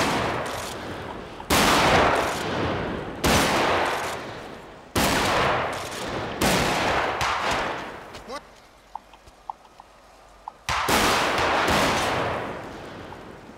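Gunfire in the video game GTA V: loud, sharp bursts of shots in repeated clusters, separated by a quieter gap with small clicks, while a voice talks over parts of it.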